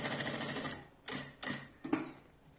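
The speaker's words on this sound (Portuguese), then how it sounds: "eu vou costurar bem na pontinha, com retrocesso aqui" A sewing machine stitches the top of a bag pocket, running in a quick rapid patter before switching to a few short separate bursts of reverse stitching.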